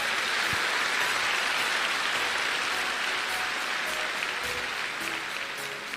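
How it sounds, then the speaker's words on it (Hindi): Seminar audience in a hall giving a loud, dense round of applause, steady and sustained like heavy rain, fading slightly at the end with no talking over it. "एक जोरदार ताली दीजिए ऊपर वाले उस ईश्वर के लिए।"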